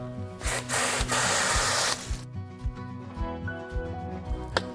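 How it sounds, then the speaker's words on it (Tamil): A garden hose sprays water onto a Maelstrom rainwater harvesting filter in a loud broadband hiss for about two seconds. The spray then stops, leaving only faint knocks and background hum. "நான் அதை ஒரு குழாய் மூலம் ஒரு சிறிய விரைவான ஸ்ப்ரே கொடுக்கப் போகிறேன்."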